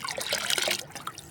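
An asafoetida mixture for feeding rose plants is poured from a cup into water, a short, close splashing trickle lasting about a second.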